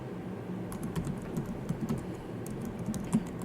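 HTML code typed on a computer keyboard produces quick, uneven clusters of close key clicks and taps over a few seconds, with no voices present.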